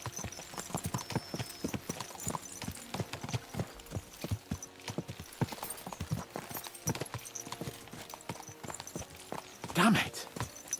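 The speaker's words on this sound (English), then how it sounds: "Let's really spur these horses on, eh?" Horses' hooves clip-clop in steady overlapping rhythm in the video game Kingdom Come: Deliverance II, close and prominent, with a brief whinny near the end and voices talking over them.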